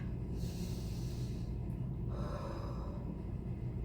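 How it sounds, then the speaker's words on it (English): A single deep breath drawn close to the microphone during a read-aloud story, with an airy intake followed by a softer release over a steady low background hum. "I take a deep breath."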